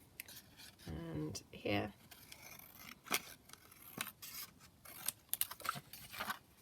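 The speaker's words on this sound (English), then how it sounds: "So I'm just going to trim that there" Scissors trim a piece of patterned paper in a few quiet snips and rubbing scrapes, close by, with a person briefly speaking between the cuts.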